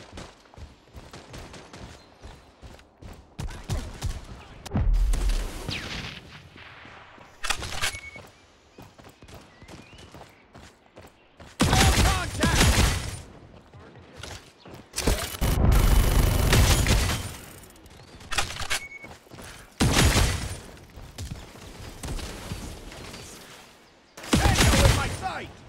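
Gunfire in a Modern Strike Online deathmatch comes in loud intermittent bursts of rapid automatic shots between quieter stretches of game ambience.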